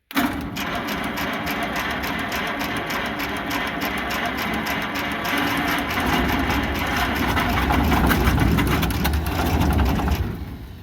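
An antique combine harvester engine cranking over as it tries to start, a loud continuous rhythmic churning that builds slightly in strength over about ten seconds, heard close with no speech.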